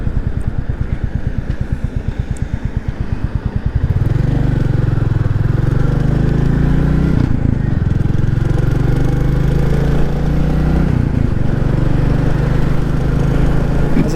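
A Royal Enfield Classic 350 motorcycle is ridden with its single-cylinder engine loud and close, first a rapid thumping pulse, then a steady droning run that rises and falls with gear changes, with no talking.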